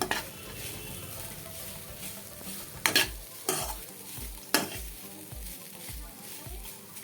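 Beetroot and fresh coconut fry is stirred in a pan, a soft sizzle under repeated scraping strokes with a few louder clanks of the utensil against the metal.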